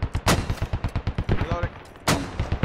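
Rapid bursts of gunfire from a squad-based military shooter game, set in a large 40-versus-40 battle, crack out in dense repeated shots with a few heavier blasts, loud and close throughout.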